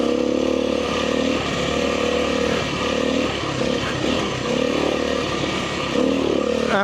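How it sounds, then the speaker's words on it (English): A KTM 350 dirt bike engine revs hard on a hill climb, a loud continuous buzzing drone with rising and falling throttle surges, close by with no talking. "I think I'm about to get blasted by a 350 KTM"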